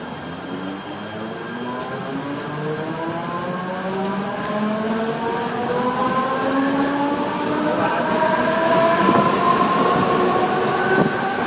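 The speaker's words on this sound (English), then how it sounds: "the EMU is accelerating from departing from Nahur railway station" An electric multiple unit train departing Nahur railway station, Mumbai, accelerates, its motor whine rising steadily in pitch over several seconds while the rumble of the cars grows slightly louder.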